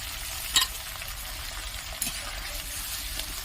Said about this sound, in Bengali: আদা রসুন বাটাটা দিয়ে দিলাম